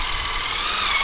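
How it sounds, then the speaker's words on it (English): A power drill driving screws into place runs as a steady, close, continuous whir for about a second, with no speech. "I'm gonna get those screws in right now."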